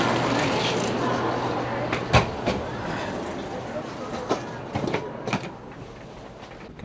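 Passenger train running on rails, a steady rumbling ride with scattered sharp clacks and knocks from the wheels and carriage, heard from inside at moderate level.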